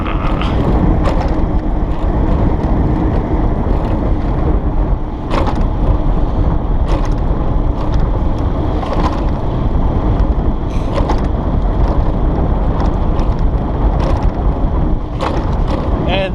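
An Emmo Urban S electric kick scooter rides on a night run, giving a steady, loud rushing drone of motor and road noise with occasional sharp bumps and clicks throughout.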